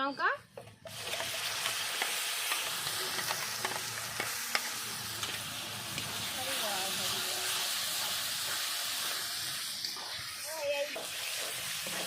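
A ground paste of cumin, ginger, garlic and dry chilli hits hot oil with browned onions, giving a loud, steady sizzle and frying hiss that runs throughout, with occasional stirring scrapes and brief talk underneath.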